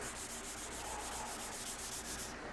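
A car hood being hand-scuffed with abrasive under the fingers, a continuous rapid back-and-forth rubbing rasp, close and even.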